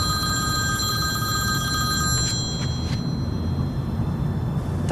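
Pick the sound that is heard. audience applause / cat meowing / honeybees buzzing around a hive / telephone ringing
telephone ringing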